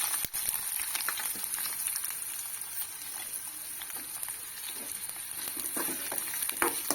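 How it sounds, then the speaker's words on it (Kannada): Onions fry with curry leaves in a pan, giving a steady, moderate sizzle and crackle that carries on throughout, with a few faint stirring scrapes. "ಇದು ಒಂದು ಸ್ವಲ್ಪ ಫ್ರೈ ಮಾಡ್ತೀನಿ"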